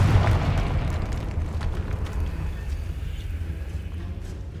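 In Hogwarts Legacy, a Confringo fire spell bursts with a loud, deep boom that rumbles and slowly fades into a low roar.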